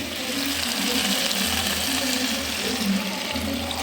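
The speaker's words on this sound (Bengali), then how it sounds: "এবার আমি অল্প করে জল দেব।" A little water is poured into a pan of spiced, sautéed vegetables: a steady, close hissing sizzle and splash that lasts throughout, with no talk.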